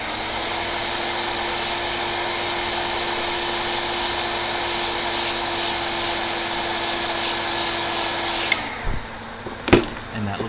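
A heat gun blows steadily with a loud, even whirring roar while shrinking heat-shrink tubing on controller wiring, then switches off near the end, followed by a few handling clicks and knocks.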